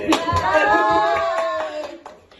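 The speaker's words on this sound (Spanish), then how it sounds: "¡Aplausos!" A small group of podcast guests clapping in a quick scattered burst while a voice calls out in a long drawn-out tone over the claps, which fade near the end.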